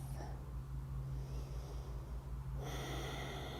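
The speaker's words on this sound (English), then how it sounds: "Take one more big breath." One deep, slow breath drawn in through the nose, followed by a quieter exhale, close and soft against a steady background hum.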